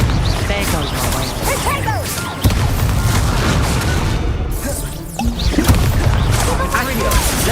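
Fire spell blasts from Hogwarts Legacy, the video game, fill a dense stretch of booming, crashing gameplay effects with whooshes, loud and continuous, with a brief dip midway before the combat noise surges back.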